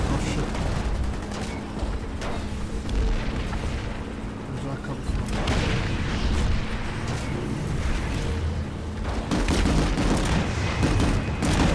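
Continuous gunfire and explosions from the online shooter game PlanetSide 2 fill the whole stretch, dense and steady with periodic bursts, while a player talks over the combat.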